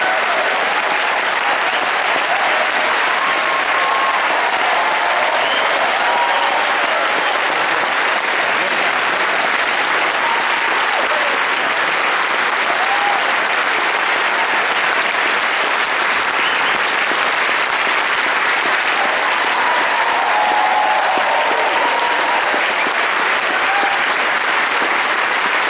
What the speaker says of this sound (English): We're going to give one final round of applause.